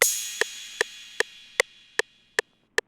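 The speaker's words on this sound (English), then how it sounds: "I added this 808 crash," An 808 crash cymbal sample from a dark trap beat opens with a loud washing burst that fades slowly, while sharp clicky percussive ticks repeat evenly about every 0.4 seconds.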